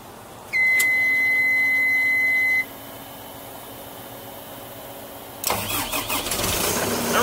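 A backhoe engine cranks with a high electronic tone for a couple of seconds, drops back to a hum, then catches and rumbles into an uneven idle.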